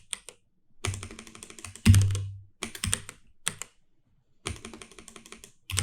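Typing on an Iris Rev 7 mechanical keyboard in an aluminium case gives close, crisp bursts of rapid key clacks, broken by short silent pauses.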